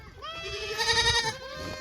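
Goats bleat nearby in a few wavering, drawn-out cries that overlap one another, loud and clear over faint background noise.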